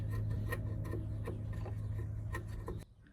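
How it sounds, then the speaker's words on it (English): Jiso Universal Cut Dozuki Japanese saw rip cutting a tough Osage orange tenon, giving rhythmic rasping strokes about twice a second that stop abruptly near the end, close and clear with no talk. "Now I'm cutting the tenon, and the Osage orange grain is pretty tough, so when rip cutting it, a saw like this Jiso Universal Cut Dozuki worked great."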